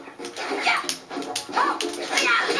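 In the Nicktoons All Stars Brawl fighting game, a dog whimpers and lets out short yips and barks in quick bursts, mixed with other bright game sounds.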